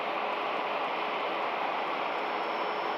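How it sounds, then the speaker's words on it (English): A Singapore Airlines A350 taxiing at Manchester Airport gives off a steady, even jet roar that holds constant without a break. "Taxiing in, heading off to Terminal 2, Manchester Airport."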